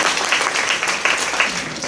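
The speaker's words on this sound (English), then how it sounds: "Give him a round of applause." A church audience gives a round of applause after an on-stage trust fall, a loud, close, continuous wash of clapping.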